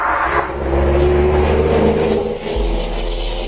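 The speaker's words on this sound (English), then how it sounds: "Wow, there's a lot of traffic." Road traffic rolls past at night, a loud motor vehicle engine droning and shifting in pitch as it passes, with a low rumble continuing underneath.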